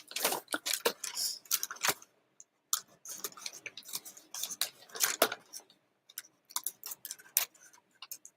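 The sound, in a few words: cutting through a brown paper lunch bag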